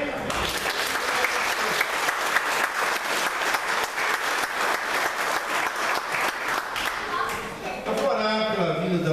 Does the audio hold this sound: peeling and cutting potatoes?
no